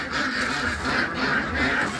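Pekin ducks quack loudly and repeatedly in a continuous noisy chorus, close by, with no talking.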